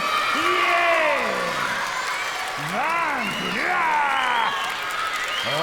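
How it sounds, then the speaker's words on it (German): A school concert audience cheers and claps for a child on stage, a loud, dense crowd roar full of rising whoops and high shouts, with a voice speaking over it briefly. "Einen großen Applaus bitte für Amil."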